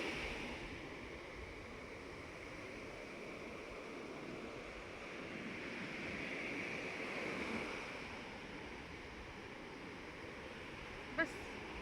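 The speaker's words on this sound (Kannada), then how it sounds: "ಅಲೆಗಳ ಅಬ್ಬರವನ್ನು" Ocean waves at Panambur beach in Mangaluru roll in as a continuous, fairly faint wash of surf mixed with wind rumble, with one brief sharp click near the end.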